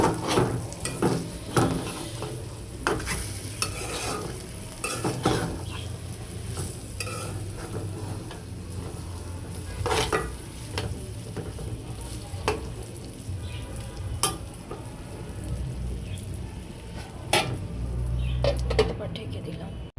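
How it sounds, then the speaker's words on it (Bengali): Meat fries and is stirred in a pan on a home stove, a steady sizzle broken by repeated scraping strokes of a spoon, with a voice talking at intervals over the cooking. "ভাজা ভাজা হয়ে যাচ্ছে।"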